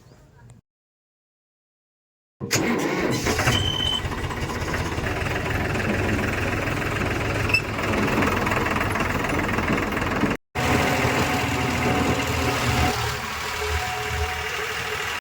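A diesel tractor engine idles loudly and steadily up close, with a rough knocking chug and a brief cut partway through.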